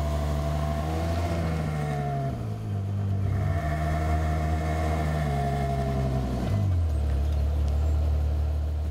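A Ferrari FF's engine rumbles close by, revving and pulling away with a gear change partway through, then settling into a steady deep drone as the car drives off.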